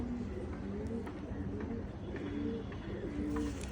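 Silver pigeons coo softly in overlapping low, rolling calls with a few light clicks, faint and steady throughout.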